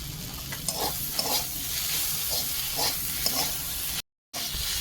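Water spinach fries in a pan and is stirred, giving a steady moderate sizzle broken by repeated scraping and stirring strokes, with a brief dropout near the end and no talking.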